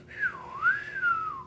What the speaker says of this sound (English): I'll teach you how to whistle